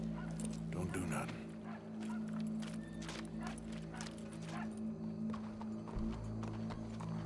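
Horse hooves clip-clop in Red Dead Redemption 2, a run of quick, irregular hoof knocks over a steady low game-ambience hum, with brief voices and animal calls mixed in.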